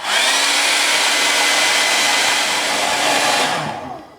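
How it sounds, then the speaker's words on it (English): A hair dryer blows steadily at full power, a loud continuous whoosh for about three and a half seconds before it switches off and winds down. "so I'm going to do the hairdryer method"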